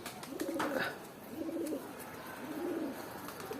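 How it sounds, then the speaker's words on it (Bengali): A male pigeon cooing close by, three soft throaty coos at an even pace with brief quiet gaps between them. "এটা নর কবুতরটা।"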